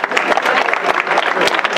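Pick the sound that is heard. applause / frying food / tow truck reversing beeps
applause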